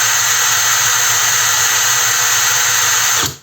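A Heimerdinger LB180 cordless gyroscopic screwdriver runs at speed on its first gear, a loud, steady high whine held close and constant before it cuts off at the end.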